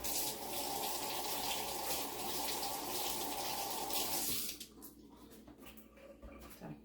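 Eggs, year-old waterglass eggs, are rinsed under a running kitchen tap, giving a steady splashing stream for about four seconds before the water shuts off, leaving faint drips and handling clatter.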